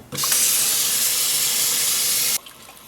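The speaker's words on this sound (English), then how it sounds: "I'll begin to rinse from the dirty side back through to the clean side" Steady water spray rinsing a K&N air filter element from the dirty side through to the clean side, a loud continuous hiss running for over two seconds before cutting off abruptly, with no voices.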